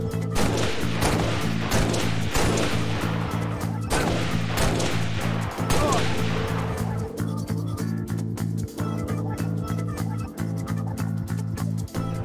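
DMR rifle in Halo Reach fires a long series of sharp shots at a steady rhythm, each one loud and close, over a constant low game hum, with no voices.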